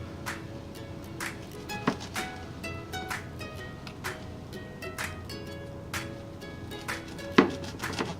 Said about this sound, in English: I'm just going to go ahead and slice the stems off with this really,